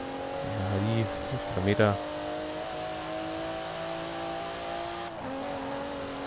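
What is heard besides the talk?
car driving in a street race in the video game Forza Horizon 4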